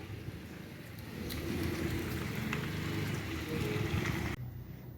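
Steady rain falls outside, a dense, even hiss of drops on surfaces that swells slightly and then cuts off abruptly near the end, heard alone without talk.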